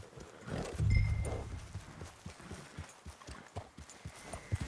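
Horse hooves clip-clopping at a quickening gallop in the Red Dead Redemption 2 game, a loud rhythmic thudding beat close by with a snort or whinny near the start.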